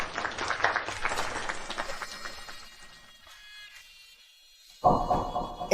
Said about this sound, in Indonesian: Semua beri tepuk tangan.